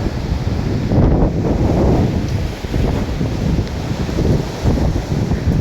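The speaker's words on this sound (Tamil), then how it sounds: "காற்று பயங்கரமாக அடிக்குது." Strong wind on a mountainside roars steadily and loudly into the microphone, with buffeting rumble that swells and eases but never stops.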